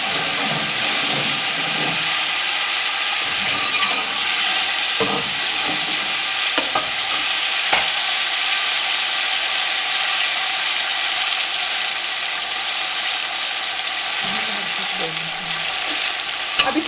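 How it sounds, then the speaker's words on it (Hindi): Ginger garlic paste fries with tomatoes and green chilies in a hot pan, a loud, steady sizzle with occasional stirring scrapes and clinks throughout. "अब इसको हम 1 से 2 मिनट के लिए अच्छे तरीके से भून लेंगे"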